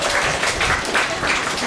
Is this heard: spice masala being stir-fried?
no